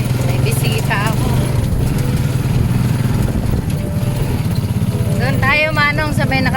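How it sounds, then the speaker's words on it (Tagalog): A motorized tricycle in the Philippines putters along at a steady engine drone during a ride, with people talking over it throughout. "sumakay na ako ng tricycle"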